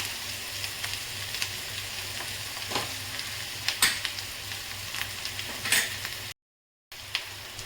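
Ground spices, chili powder and ginger paste sizzling in a hot pan, a steady loud frying hiss with intermittent scraping stirs and a short gap near the end, no voices.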